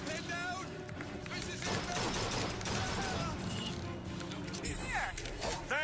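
Heavy gunfire in the BioShock Infinite video game, including shotgun blasts, booms in a busy continuous barrage of shots and crashes, mixed with other game sounds and voices.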